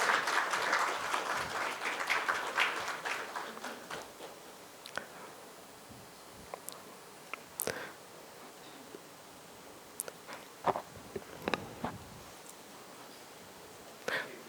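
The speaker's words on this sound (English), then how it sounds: "The round of applause should not stop" An audience claps at the close of a finance panel session as people gather for a group picture: a dense burst of applause for several seconds, then thinning into scattered individual claps and rustling.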